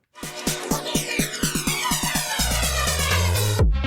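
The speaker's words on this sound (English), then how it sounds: "full flange. Otherwise, it sounds like this." Heavy full flange effect on a house/techno DJ mix: a steady kick-driven beat swept by a loud, obvious jet-like whoosh that turns into a dense, resonant wash of bass and tone near the end, alone without talk.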